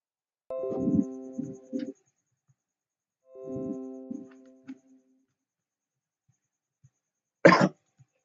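Coughing from a man indoors: a harsh bout of several coughs, a pause, then a longer rasping cough, and after a quiet stretch one short sharp cough, all close to the microphone with no talk.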